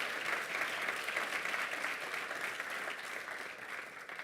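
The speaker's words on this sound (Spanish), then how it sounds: "démosle un aplauso al Señor por la vida" A church congregation at a sermon claps together in praise, a steady, even patter of many hands throughout, fairly faint and distant.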